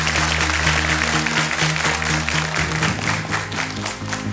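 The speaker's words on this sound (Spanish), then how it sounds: "Bienvenida, un aplauso para ella." Studio audience applauding a guest on a Spanish-language TV show, a steady wash of clapping sustained throughout, with a low musical tone running underneath.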